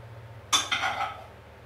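Metal spoon scraping and clinking against a pan while pressing filling into mushrooms for oven-baked stuffed mushrooms, two quick close knocks followed by a brief scrape, with no talking.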